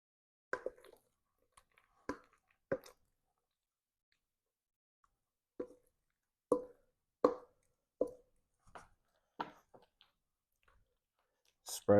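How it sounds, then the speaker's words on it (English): Mac and cheese being spooned and scraped into an aluminum pan, heard as soft wet plops, taps and clicks in short separate bursts with quiet pauses between, close and fairly faint. "I'm going to go ahead and transfer this mac and cheese over into this aluminum pan"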